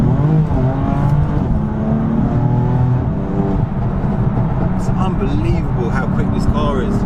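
A BMW F80 M3 Competition pulls away on the road, its engine note climbing through revs with a steady drone of road and cabin noise, close and loud, ending in lighter mechanical ticks.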